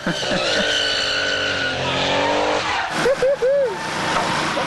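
A performance car accelerates hard through the gears, its engine note rising in long sweeping climbs, then a short gap and quick rising bursts as it shifts up, loud and close with a voice over it.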